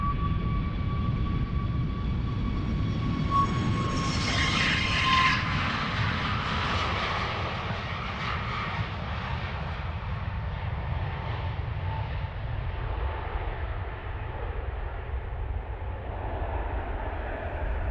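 Jet airliner taking off from runway 36L at Amsterdam Schiphol Airport, a loud sustained engine roar with a high whine that gradually fades as the aircraft climbs away, heard alone.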